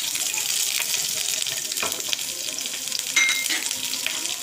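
Dried red and fresh green chilies sizzle and crackle loudly in hot oil in a pan, a dense hiss with a few sharper pops, steady throughout.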